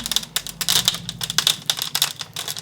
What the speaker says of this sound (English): we're just opening that gizzard up. You can hear those stones in there.